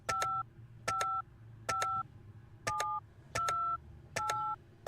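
Telephone dialing in the Penelope Pendrick adventure game: six evenly spaced bursts of two-tone keypad beeps, each a short clear tone roughly every three quarters of a second, over a low steady hum.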